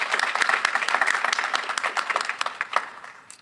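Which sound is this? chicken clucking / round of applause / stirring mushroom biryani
round of applause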